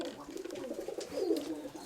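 Pigeon cooing in a breeding loft, a soft low murmuring coo that swells briefly near the middle, close by and alone with no talk over it.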